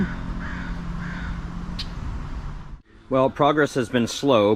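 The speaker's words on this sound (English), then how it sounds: "Oh, there's a crow there." A crow caws repeatedly outdoors, three harsh calls at moderate distance, followed by someone speaking.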